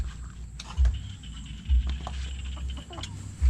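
Chickens cluck in a coop built over water, with scattered clucks over a steady background hum and a few dull low thumps at intervals.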